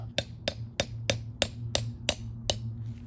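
Urethane sway bar bushing tapped into its mount on a 1991 Audi 20V Avant: eight sharp, evenly spaced taps, close and crisp, with a steady low hum in the background.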